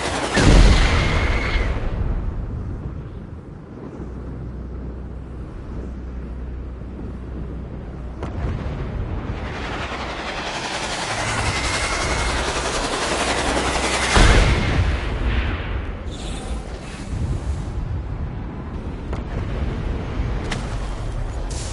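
Rapid gunfire from an armchair fitted with guns in the game Gat out of Hell, loud and sustained bursts over a rumbling game soundtrack with occasional heavier blasts.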